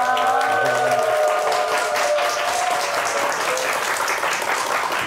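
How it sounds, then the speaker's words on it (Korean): A studio audience on a morning television talk show gives loud, sustained applause that fills the whole stretch, with a brief musical sting at the start. "큰 박수로 함께해 주시죠."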